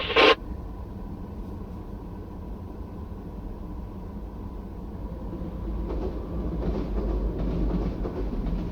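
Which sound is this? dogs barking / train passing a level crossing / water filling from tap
train passing a level crossing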